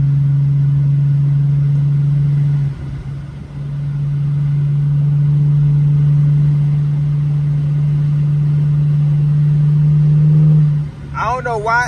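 A Mercedes W210 cruises along with a steady, low engine drone inside the cabin that dips briefly once, while someone talks over it.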